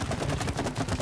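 Rapid gunfire bursts in the video game It Takes Two, moderately quiet and continuous over a brief moment.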